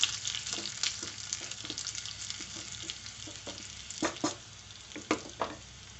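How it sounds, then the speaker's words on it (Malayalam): Dried red chillies and curry leaves fry in hot oil as a tempering for beans thoran, giving a continuous close sizzle with a run of quick spoon scrapes and stirs, louder toward the end, with no speech. "എന്നിട്ട് നമുക്കിതൊന്ന് ഇളക്കി കൊടുക്കാം"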